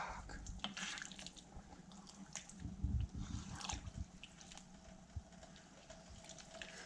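Water is poured into a pot of pork goulash made from butchering-day meat, a soft, fairly quiet splashing pour with a few low thumps and no speech.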